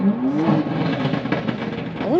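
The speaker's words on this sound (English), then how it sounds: "You got people just revving over there." A nearby engine revs and drones loudly near a Duramax truck, a sustained rising and falling roar, mixed with voices talking.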